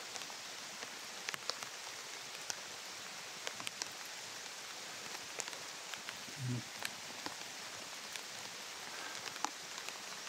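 Heavy rain pours steadily on surfaces outdoors, a dense constant hiss with scattered drop ticks and a brief low thump partway through, no clear speech.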